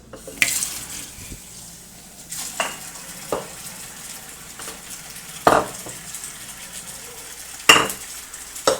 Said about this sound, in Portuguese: A torneira tá aberta.